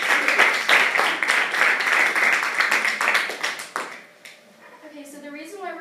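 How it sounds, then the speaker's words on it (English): A classroom of students bursts into brisk clapping during a lesson on vermicompost and waste disposal; the applause runs for about four seconds, then fades as a voice starts talking. "Round of applause, guys."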